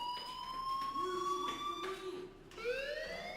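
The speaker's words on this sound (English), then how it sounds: "do you hear that fire alarm?" In the video game Life is Strange, a fire alarm sounds as a loud electronic wail: tones sweep up and hold, dip briefly, then rise again, repeating steadily with no speech.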